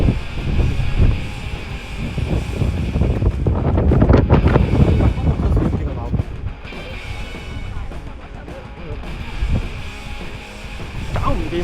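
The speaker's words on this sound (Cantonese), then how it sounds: "搞唔掂啊！ 太大風啦！" Strong gusts of wind buffet the microphone on the rim of the volcano crater at Mount Aso, Kumamoto, roaring loud and continuous with rising and falling surges, while a person shouts briefly over the blustery noise.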